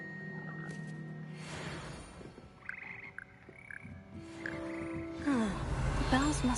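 Frog croaks from the Frog Choir in Hogwarts Legacy, low repeated calls mixed with ambient game music and tonal chimes at moderate level, with a short burst of voice partway through.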